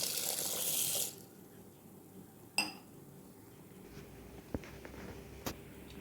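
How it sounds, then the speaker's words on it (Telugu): Water pours briefly over moong dal in a bowl for soaking, a short rushing splash followed by a few faint clinks of utensils, close and without talk. "ఇప్పుడు ఈ పెసరపప్పులో వాటర్ పోసి ఒక ఫోర్ అవర్స్ వరకు నానబెట్టుకుందాం"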